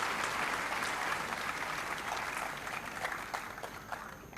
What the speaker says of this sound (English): Let us clap the young chaps of students from schools we have with us.